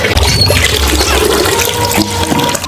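Water gushes steadily from a bathroom tap that has turned on by itself, a loud continuous splashing rush into the basin that holds for almost three seconds before a brief clatter at the end.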